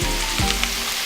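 Steakhouse seasoned diced potatoes sizzle steadily in a hot pan, a continuous close hiss with brief clatters as they hit the surface.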